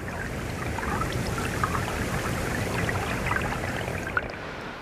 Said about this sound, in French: Quand les bulles atteignent la surface, l'eau se met à bouillonner.